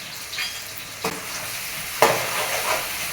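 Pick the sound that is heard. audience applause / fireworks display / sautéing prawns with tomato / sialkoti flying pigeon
sautéing prawns with tomato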